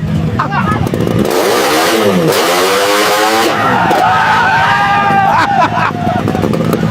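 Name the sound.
motorcycle with 01 Moto exhaust pipe revving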